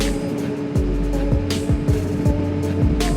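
A Suzuki motorcycle ridden along a road through Panama City, its engine droning steadily close up with repeated rising and falling revs as the rider shifts gears.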